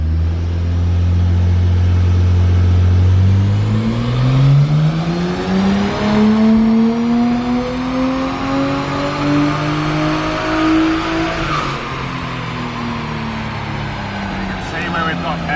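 Nissan R33 Skyline turbo engine revving hard on a dyno, pitch climbing steadily through a long pull before dropping off, loud and close with people talking over it.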